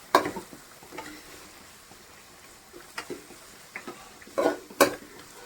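Ingredients sauté in a hot pan with a soft steady sizzle, broken by scattered scraping and clinking strokes of a spatula against the metal, sharpest near the end.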